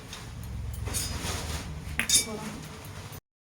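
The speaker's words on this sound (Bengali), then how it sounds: "আমি এই যে কড়াইটা বসিয়ে দিলাম।" A karai wok set down on a gas stove in a home kitchen, giving a few light metallic clinks and one brighter clank near the end over a low background hum.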